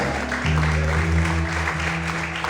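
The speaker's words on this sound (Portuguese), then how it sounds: "Será que você pode aplaudir e exaltar o Senhor nesta manhã?" A church congregation claps along, the broadband patter sitting under sustained low organ or keyboard tones that swell midway, moderately loud and continuous.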